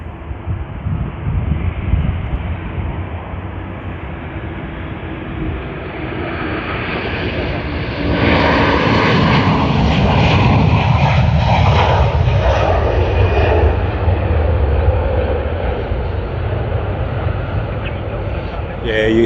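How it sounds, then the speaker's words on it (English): Airliner on its takeoff roll at Sydney Airport, a broad engine roar that swells and holds steady from a distance, with wind buffeting the microphone. "They have begun their takeoff roll already."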